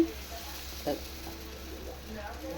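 Ridge gourd dosa batter frying in a little oil on a hot pan, giving a soft, steady sizzle close by with one brief louder crackle near the start.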